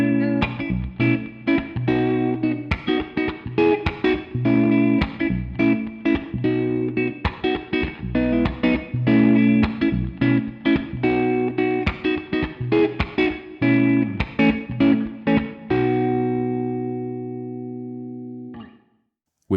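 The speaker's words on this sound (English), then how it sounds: "It's a smooth, musical plate reverb that sits naturally in a mix" Studio Plate 70 plate reverb on a Quad Cortex mini, heard over a fast run of plucked guitar notes that stops, leaving a smooth tail ringing out briefly.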